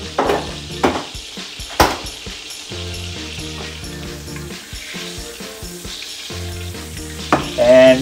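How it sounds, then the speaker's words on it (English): Butter melting in olive oil in a pan, giving a continuous close sizzle and crackle, with a few pan knocks and clinks and a voice speaking over parts of it. "Okay, so the butter is melting."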